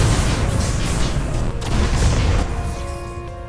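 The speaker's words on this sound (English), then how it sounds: "the fusion wards and the destroyers are most certainly shooting and hurting a lot" Fusion wards and destroyers firing in the space strategy game AI War 2, a dense, loud, continuous wash of booming weapon fire with no breaks.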